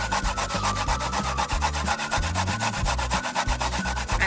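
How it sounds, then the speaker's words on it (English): Coconut being grated by hand for Jamaican plantain porridge outdoors, a steady rhythmic rasping of flesh against a grater, repeated strokes about twice a second, close and continuous with no talking. "you want to take time and grate your coconut."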